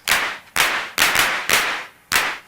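Longer claps from an MFB 301 Pro drum machine repeat five times in a steady, slightly uneven rhythm, each a bright burst with a noticeable decaying tail, loud and close, with no voices.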